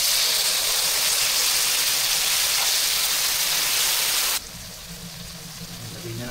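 Water poured into a hot pan of carrots being cooked for chopsuey sets off a loud, steady hiss of sizzling steam that cuts off abruptly, leaving a quieter bubbling simmer.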